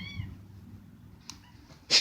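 A cat gives a short meow near the start, then there is a faint rustle and a louder sharp burst near the end, close and without talk.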